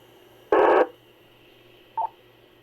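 Telephone touch-tone dialing beeps go out over an amateur radio autopatch, one strong tone followed by a shorter fainter one, against a quiet background with a faint steady hum.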